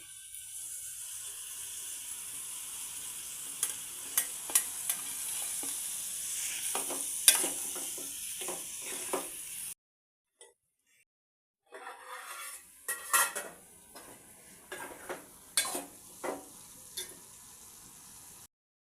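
Tomatoes and prawns fry in a pan with a soft steady sizzle, broken by sharp clinks and scrapes of a spoon stirring against the metal; a short silent gap falls midway before stirring resumes.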